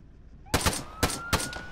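Gunfire in the video game Arma 3: four loud, close shots in quick irregular succession, each a sharp crack with a short tail, over a quiet background.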